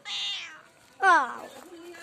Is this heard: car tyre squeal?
no